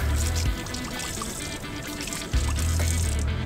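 Water runs steadily from a tap as a freshly sharpened knife blade is rinsed, a continuous hissing splash with a couple of low clunks from handling.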